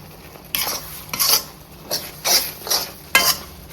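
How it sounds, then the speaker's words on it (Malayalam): A spoon scrapes and stirs through thick prawn pickle in a pan, five or six close, rhythmic strokes over a faint sizzle. "നന്നായിട്ട് യോജിക്കാൻ വേണ്ടിയാണ് ഒന്ന് ഇളക്കി കൊടുക്കുന്നത്."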